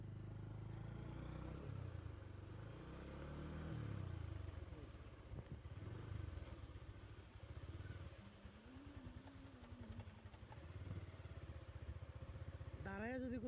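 Motorcycle ridden across Saint Martin's Island, its engine rumbling steadily up close and rising and falling with the throttle, with people talking over it throughout.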